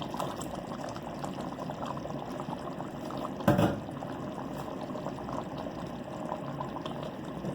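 Thick tomato puree poured into a pan of softened meat for achar gosht, a brief wet plop near the middle over a soft steady background hiss of cooking.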